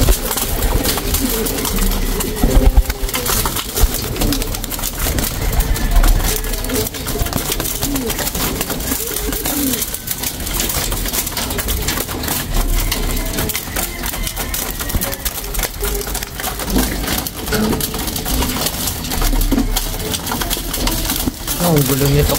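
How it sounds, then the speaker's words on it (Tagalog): Pet pigeons cooing close by in a busy, noisy space, with soft throaty calls mixed with clattering, pecking and scattered talk. "kalapati ni Kuya Jobert."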